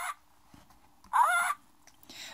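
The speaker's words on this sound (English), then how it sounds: "Polly Parrot says squaw." Cartoon parrot squawking once, a loud harsh burst around the middle of a short quiet stretch, with faint bits of other sound before and after.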